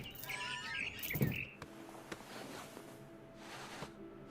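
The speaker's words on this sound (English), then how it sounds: "It was a barn swallow going back to her nest." A barn swallow in the video game What Remains of Edith Finch gives a quick burst of high chirps and tweets near the start, followed by softer scattered calls against a quiet background.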